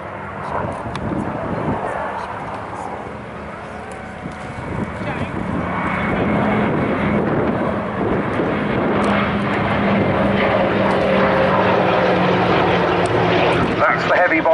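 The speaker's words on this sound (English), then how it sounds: "R4D now orbiting around the target, very much in the sort of racetrack pattern" A Douglas R4D twin-engine propeller aircraft orbits in a racetrack pattern at the Duxford summer air show, its steady engine drone building and staying loud throughout, with a commentator's voice running over it.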